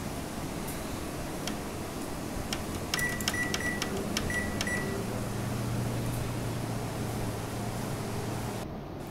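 A microwave oven heating chicken hot dogs with cheese, a steady hum running throughout, with faint ticks and short beeps from its panel and a final tone near the end.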